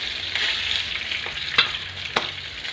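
Homemade fried chicken sizzling steadily in hot oil in a pan, with a few soft clunks and pops as the pieces are flipped over.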